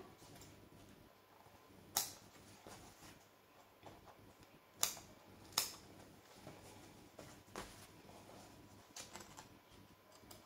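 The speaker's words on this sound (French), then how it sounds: "je découpe le tour de mon cercle" Scissors snip through fabric, cutting around a circle, giving quiet, irregular clicks and crisp snips at close range with soft handling noise between cuts.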